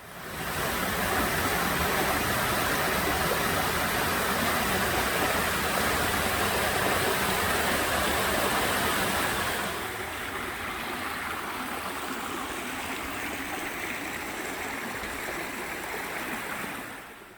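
A sizeable waterfall drops in two bends and runs down a sheer rock slope on a cliffside trail, a loud, steady rushing roar that softens slightly partway through and carries on with no voices.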